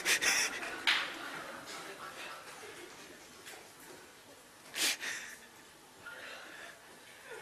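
A man performs chaotic breathing exercise, rapid forceful pants, snorts and gasps with sharp bursts of exhaled breath, close and loud, spaced irregularly through the stretch without words.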